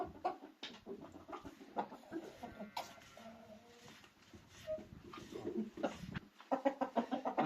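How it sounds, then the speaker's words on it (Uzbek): A rooster kept for sale clucks in short, irregular bursts at close range, with soft rustling between calls and a quick run of clucks toward the end. "Mana bu 3-chi xo'rozimiz mana."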